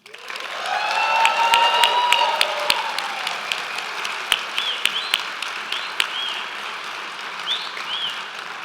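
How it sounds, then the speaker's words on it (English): An audience claps for graduates at a physician assistant commencement ceremony, a broad round of applause that builds within a second, peaks, then thins into scattered claps over a steady hall murmur. "And one more round of applause for our graduates."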